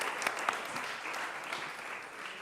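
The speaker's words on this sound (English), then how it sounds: "I think she deserves applause." Quiet audience applause at a conference on women's rights, a steady patter of many hands clapping at a distance for a couple of seconds.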